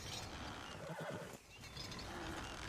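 A horse whinnies in Red Dead Redemption 2 over a faint, dense game background with hoof clip-clop, a short neigh in the middle of the clip.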